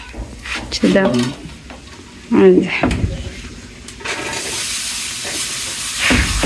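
Onion frying in a pan as vegetables are added for a puti fish curry, with steady sizzling and scraping stir strokes; a voice talks over the cooking near the start.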